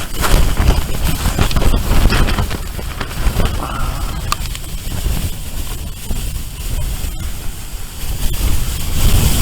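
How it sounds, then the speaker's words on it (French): Strong gusts of wind sweep over snow on the Vatnajökull glacier in winter, a loud, roaring, continuous rush buffeting the microphone, with sharper bursts near the start and the end. "Ça souffle, on a des belles rafales et on est dans la neige."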